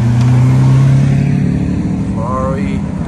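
Lamborghini Aventador supercar accelerating past at a Goodwood supercar gathering, a loud steady engine roar easing off as it goes by, with people talking nearby.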